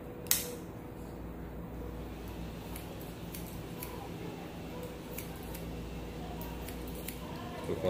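Scissors cutting a client's hair, a faint string of quick close snips in an uneven rhythm against a quiet background, with a slightly louder snip near the start.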